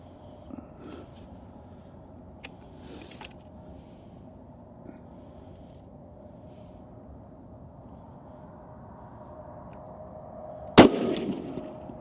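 A single sharp rifle shot at an outdoor shooting range cracks near the end, over a quiet, steady ambient hum with a few faint distant pops earlier.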